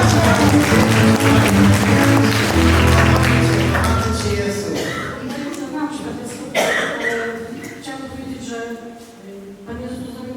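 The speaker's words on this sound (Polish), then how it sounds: "Brawa" Church congregation at a Polish evening worship service breaking into applause, dense clapping that fades into scattered claps while someone speaks over it.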